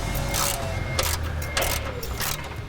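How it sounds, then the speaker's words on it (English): Screws being taken out of a bracket on a 2017–2019 Ford Powerstroke truck during an air intake install, heard as a steady whirring power driver with brief ratcheting bursts, close and continuous for a few seconds. "in order to do that, we have to take these screws out."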